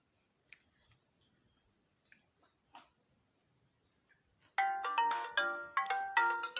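A phone ringtone from an incoming call breaks in loud and bright after a few faint scattered clicks and rustles, playing a repeating electronic melody of chiming notes.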